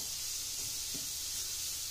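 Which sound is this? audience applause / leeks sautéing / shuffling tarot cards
leeks sautéing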